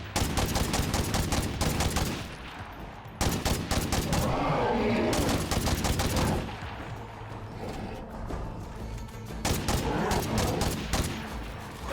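Rapid bursts of 5.56 rifle gunfire in the zombie survival game State of Decay 2, loud and close, several sustained volleys with brief gaps between them and no talking.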